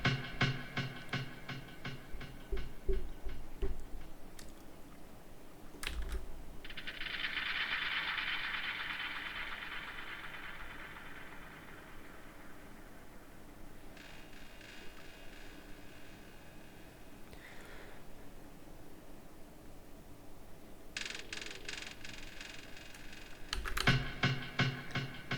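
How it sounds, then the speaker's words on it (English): Short processed one-shot sound snippets with delay effects for a progressive house track: clicky percussive bursts and a smeared, swelling tonal sweep that echoes and fades, separated by quieter stretches with no talk. "snips of all different little one shots with delays added to them"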